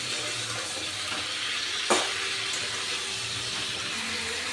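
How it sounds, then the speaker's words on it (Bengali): Fried rita fish pieces and potatoes being stirred into a spice masala in a hot pan, giving a steady close sizzle with a single sharp scrape of the spoon midway. "মাছ আর আলুর সাথেও মশলাটাকে আমি খুব ভালো করে কষে নেবো"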